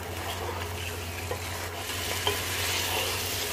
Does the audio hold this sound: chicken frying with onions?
yes